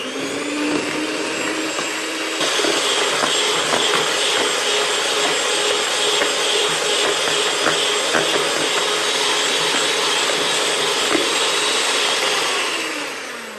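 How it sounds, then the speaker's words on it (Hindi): An electric beater whips an eggless strawberry ice cream mixture with sweetened condensed milk, giving a loud, continuous whirring drone that holds steady for over ten seconds with small scraping ticks, then tails off at the end. "अब इसको थोड़ा सा और बीट करेंगे"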